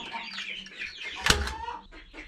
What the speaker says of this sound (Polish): Kaczki, ale wy to zamieszanie robicie zresztą. Normalnie masakra. Taki jazgot.